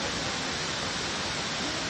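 Kuang Si Waterfall in Laos pours in a steady, dense roar of falling water, close and unbroken from start to finish with no other sounds standing out.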